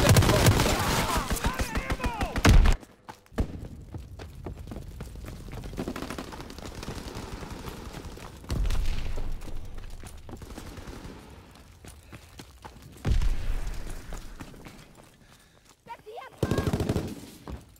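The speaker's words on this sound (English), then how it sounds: "Dropping Fritz X bomb." Call of Duty WWII gameplay as a Fritz X bomb drops: a loud burst of gunfire and impact noise opens, then quieter rumbling action with further heavy bursts around the middle and end.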